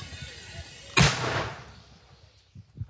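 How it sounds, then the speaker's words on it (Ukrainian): A single loud blast from a Ukrainian mortar crew firing on the Bakhmut front in Donetsk region booms out, its roar trailing off over a second or so, followed by a few low thumps. "Просто зараз українські мінометники відпрацьовують по нових цілях противника."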